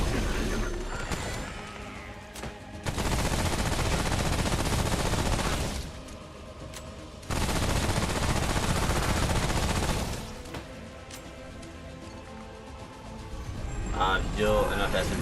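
Submachine gun fire in a video game, two sustained loud bursts of rapid shots each lasting about three seconds, separated by quieter stretches of game sound and a voice talking.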